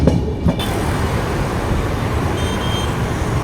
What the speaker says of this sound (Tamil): அந்த சைடு ஒரு லோக்கல் ட்ரெயின் வந்து பேரலாக அதுவும் வந்துட்டு அப்படியே வெளியே வந்துக்கிட்டு இருக்கு